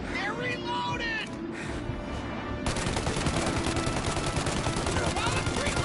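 Sustained gunfire rages through a shootout in the video game Mafia Definitive Edition, with loud overlapping bursts of automatic fire that turn into a continuous dense barrage, and voices shout over it.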